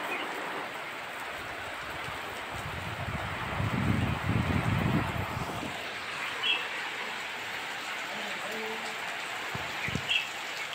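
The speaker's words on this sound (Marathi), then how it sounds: "सगळीकडे मस्त मुसळधार पाऊस पडत आहे" Heavy monsoon rain pours outdoors among green village surroundings, a steady dense hiss throughout with a few faint bird chirps and some low thumps partway through.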